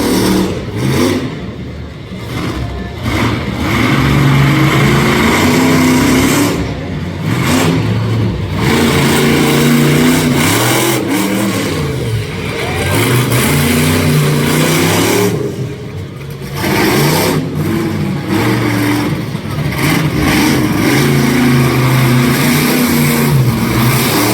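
A monster truck engine roars and revs hard as the truck spins donuts on a dirt arena course at a live competition, loud and sustained with rising and falling surges across the whole stretch.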